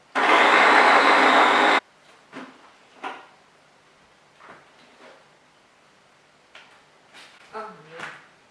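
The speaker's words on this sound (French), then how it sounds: "Et je vais commencer à mixer un peu." A Babycook baby food maker blends potato, tomato and fish in a loud, close whirring burst of under two seconds, followed by scattered quiet kitchen clatter and a voice speaking.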